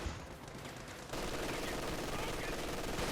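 Dense, continuous gunfire from Grenadiers in Company of Heroes 2, a loud rattling fusillade that swells partway through, with a commentator's voice heard under it.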